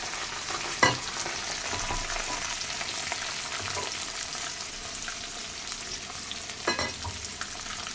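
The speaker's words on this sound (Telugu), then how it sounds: "ఉల్లిపాయ ముక్కలు వేసినాం అది కొంచెం ఎర్రగా వేగుతున్నాయి కదా" Chopped onions and green chillies fry in a pan with a steady, close hiss and crackle, broken by a couple of brief sharp clanks from stirring, with no talking.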